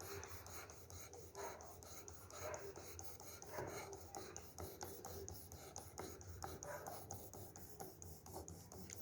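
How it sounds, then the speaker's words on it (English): Knife edge honed on a WorkSharp Precision Adjust sharpener with Tri-Brasive hone: faint, steady rasping strokes repeat close by, soft and continuous with no talking. "We're at the hone now. So let's hone this."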